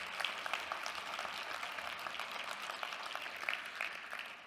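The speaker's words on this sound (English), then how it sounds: "applause" A conference audience at a consumer protection spotlight session applauds the technical team, a steady, fairly soft wash of clapping that continues without a break.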